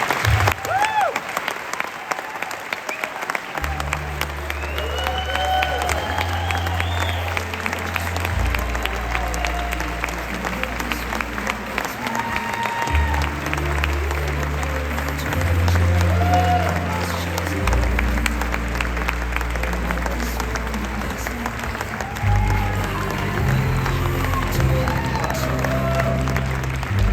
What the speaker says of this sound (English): Another round of applause for Meridith.